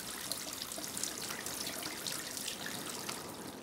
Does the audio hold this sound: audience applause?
no